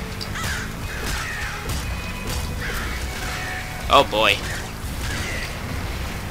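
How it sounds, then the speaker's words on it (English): Crows caw in the video game Nuclear Throne, a short burst of harsh calls around the middle over busy game sounds, with someone talking before and briefly during. "These crows are giving me a run for my money."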